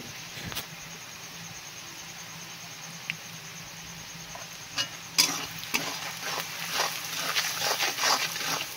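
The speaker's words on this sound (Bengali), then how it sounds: "দিয়ে ভালো করে মশলাটাকে নেড়ে নেব" Spices being stirred in a pan for a mutton curry, with chilli powder and turmeric added; a steady sizzling hiss with scattered scraping taps that grow busier and louder toward the end.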